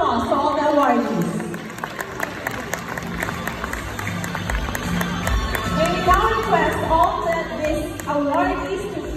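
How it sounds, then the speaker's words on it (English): Applause at an awards ceremony for the awardees, clapping from the gathered crowd mixed with chatter and voices throughout. "How about a big round of applause to all the awardees?"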